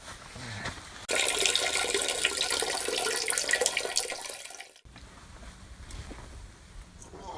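Water runs from a tap into a bottle. A sudden strong rush starts after about a second and fills steadily for under four seconds, then cuts off, leaving quiet room sound.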